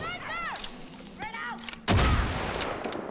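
Gunfire in the video game Far Cry 6: a sharp, loud burst of shots erupts near the end after quieter game sounds, with a person talking over the action.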